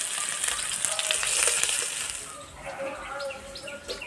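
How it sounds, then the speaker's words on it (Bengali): Grated garlic, grated ginger and slit green chilies frying in hot mustard oil in a kadai, a loud steady sizzle and crackle that eases after a couple of seconds, with faint birdsong in the background. "কড়াই দেব সরষের তেল, তেলে দেবো গ্রেট করা রসুন, গ্রেট করা আদা, কোচানো কাঁচা লঙ্কা।"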